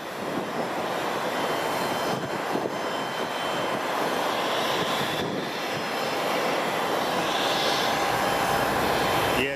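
Boeing 777X engines run at Boeing Field, King County International Airport, a loud sustained roar with a rising whine building toward the end, close and steady, without speech.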